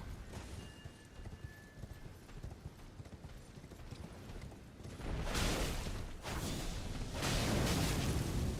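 Horse hooves galloping in the video game Elden Ring, a steady drumming rhythm with soft impacts that grows louder and denser partway through, with whooshing movement mixed in.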